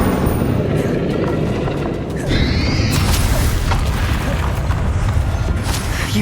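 Bombarda and Confringo spells explode during a duel in Hogwarts Legacy, loud booming blasts and crackling impacts over dense battle noise and rumble, with a voice speaking briefly amid the clash.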